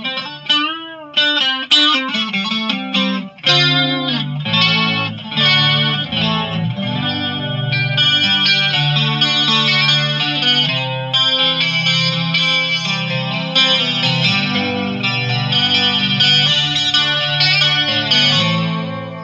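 Gibson Les Paul Modern electric guitar with two pickups out of phase in the middle position, a thin, hollow, chimey tone, strummed chords and picked notes ringing through a shimmering chorus effect.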